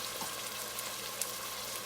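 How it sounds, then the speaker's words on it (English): Onion sautés in a hot pan for jollof rice with a steady, close sizzle, a dense crackling hiss with small pops and no voices over it. "You want that onion to saute"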